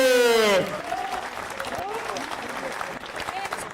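Applause at a spearfishing award ceremony, a crowd clapping steadily after a loud musical or announced opening note cuts off, moderately close with some voices mixed in.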